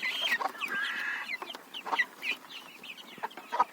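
A hen clucks softly and repeatedly while small chicks peep around her, close and lively.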